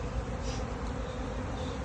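Honeybees buzzing loudly around active beehives in California, a thick continuous drone close up with no voices.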